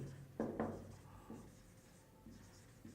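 A pen writes out a list-merging algorithm for a two-way merge sort, producing soft, intermittent scratching strokes in a quiet room, with short bursts of scribbling separated by pauses.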